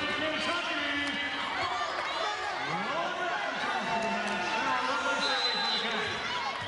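A volleyball crowd in an arena roars and cheers steadily throughout, loud and continuous, with squeaking shoes and a commentator talking over the noise.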